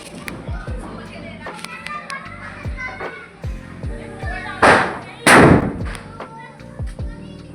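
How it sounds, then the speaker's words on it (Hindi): Firecrackers go off during Diwali amid children's voices and chatter outdoors, with a string of distant pops building to two loud close bangs. "बहुत देर से बम जला रहे हैं।"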